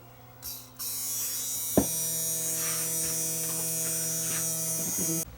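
A Bissell Power Stick vacuum motor, just repaired after an armature short, runs with a steady electric whine and hum after a brief click at switch-on, continuing evenly at close range with no talking.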